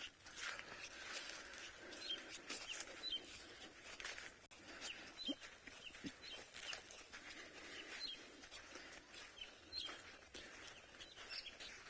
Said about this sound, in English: I can hear some of these birds.